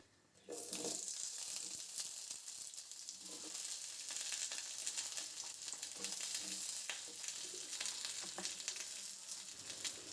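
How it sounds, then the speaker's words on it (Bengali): Cut potatoes fry in hot oil with five-spice and dried chili, a loud, continuous sizzle that bursts in after a quiet half-second, with occasional stirring clinks and no talk. "তখন আমি কেটে রাখা আলুটা এর মধ্যে দিয়ে দেব।"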